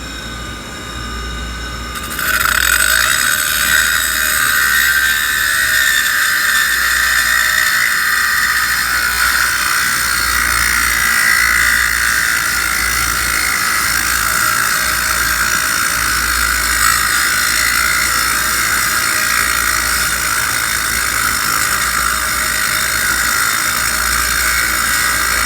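A diamond grinding wheel spins with a steady high whine, then a hand-held dressing tool is pressed against it, adding a continuous harsh, gritty grinding hiss that stays loud and even.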